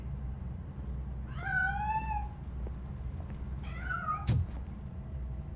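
A cat meows twice in RoboCop: Rogue City, a longer rising-falling meow followed by a shorter one, clear over a low ambient hum, with a brief knock near the end.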